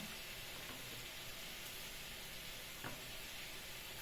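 Chicken pieces fry in a pan with a soft, even sizzle and hiss running steadily throughout, quiet and close, with no talking.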